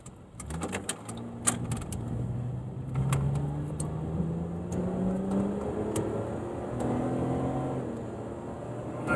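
A Dodge Avenger with a newly fitted custom, mildly modified exhaust idles and revs steadily nearby, its low engine drone rising and falling in pitch through a couple of gentle revs, with a few light clicks and no talking.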